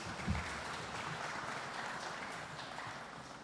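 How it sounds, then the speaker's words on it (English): Audience applause at a public lecture as a professor takes his seat, a steady wash of many hands clapping at a distance, fairly faint and even throughout. "Another round of applause as he takes his seat."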